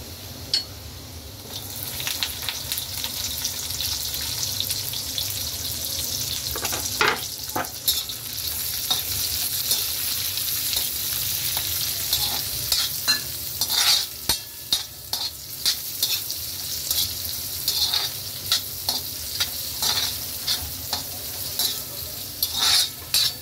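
Onion fries in a pan on a gas stove, giving a steady close sizzle with frequent stirring scrapes and utensil clicks layered over it throughout.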